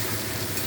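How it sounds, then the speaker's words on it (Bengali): Blended green chili hits a hot wok with a steady, continuous sizzle, close and fairly loud, while cooking a low-oil fish curry. "কাঁচা লঙ্কা এটা ব্লেন্ড করে রেখেছি, আর এটা আমি দিয়ে দিচ্ছি কড়াতে"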